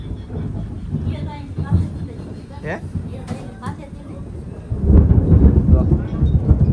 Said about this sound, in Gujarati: કેવું હરુડું સાંભળો